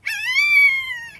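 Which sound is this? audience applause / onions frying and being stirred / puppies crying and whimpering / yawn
puppies crying and whimpering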